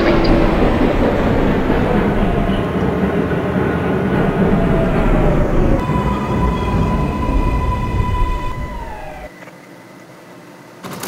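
A Manhattan-bound 5 local subway train in the OpenBVE simulator rolls along with a loud, steady rumble and a rising whine, then eases down near the end, the motor tone dropping away.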